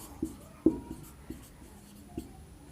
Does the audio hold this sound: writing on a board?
yes